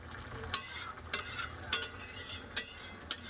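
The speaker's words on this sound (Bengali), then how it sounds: "এবার গ্যাসটা তেজ করে একটু ফুটিয়ে নামিয়ে নেবো" A potato and tomato curry with shrimp boils on a high gas flame, giving a quiet bubbling hiss punctuated by sharp pops or scrapes about every half second.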